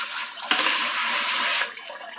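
Running water rinses a few small rock tumbler media pieces held in a colander, a steady broadband splash lasting about a second and a half before easing off, close and fairly loud with no talking.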